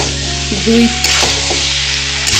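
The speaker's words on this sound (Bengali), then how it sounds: "2 মিনিটের মতন মশলার সাথে আর কাঁঠালের সাথে কষাই নেব।" Jackfruit being fried with spices in a pan for a Bengali jackfruit curry: a loud, steady close sizzle with brief stirring scrapes, no talking.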